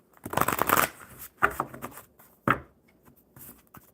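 A deck of playing cards is shuffled close by in a few quick riffling bursts, crisp and papery, with short pauses between them and no voices.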